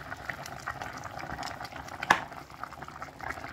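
Soft pork bones simmer in a pot of boiling water, giving a low, steady bubbling murmur at a quiet level, broken once by a brief metallic clink.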